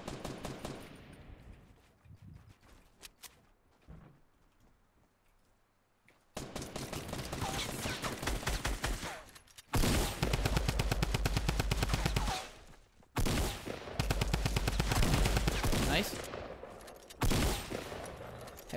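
Rapid automatic gunfire in a first-person shooter video game, coming in loud sustained bursts separated by short pauses, with quieter stretches and brief speech in the background.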